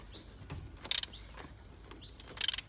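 A ratchet snugs the oil pan drain plug on a Nissan 180SX, two close bursts of rapid clicking separated by quieter pauses with a few soft metallic taps.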